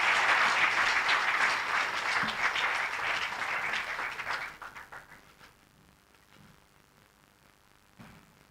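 Meeting audience giving applause for the chief guest, dense clapping at first that tapers off midway, leaving a quieter room with scattered faint sounds and a brief bump near the end.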